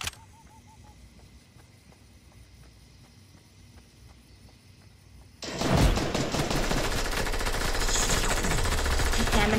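Gunfire in the video game Fortnite starts abruptly midway after a quiet stretch, a loud, dense burst of rapid shots that continues steadily to the end.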